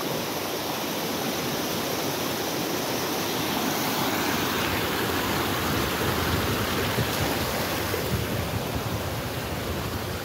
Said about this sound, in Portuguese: Essa aqui é a parte alta da cachoeira.